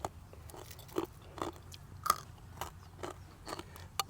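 Someone eating crispy fried quail and crispy pork tail with Thai spicy salad, quiet close crunching bites repeating every half second or so, with no talk.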